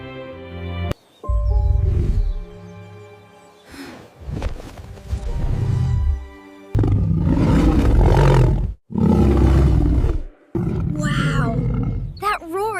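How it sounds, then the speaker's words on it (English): A lion at a zoo roars repeatedly, loud, deep bursts with short gaps between them, close and powerful, rising to long rumbling calls. "Wow, that roar is so strong."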